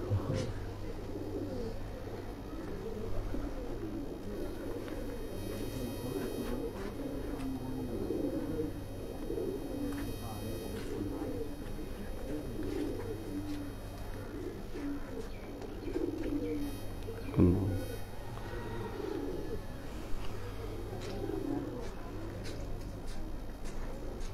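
Pigeons coo continuously from a rooftop loft, soft rolling calls layered over one another, with occasional voices and a few faint knocks in the background.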